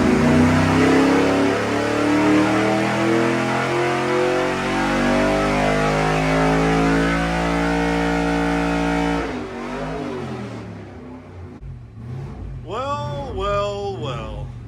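A junkyard 5.3-liter LS V8 on an engine dyno, ignition timing locked at 36 degrees, roars loud and steady under load for about nine seconds, then drops to a rough idle as voices talk over it.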